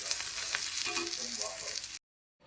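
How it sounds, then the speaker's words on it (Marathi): Onion and dried coconut roast in a pan for a fish dish, giving a steady dense sizzle with light stirring, close and even, then cutting to silence near the end. "आपण त्याच्यामध्ये आता खोबरं घालूया आणि खोबरं पण भाजून घेऊया"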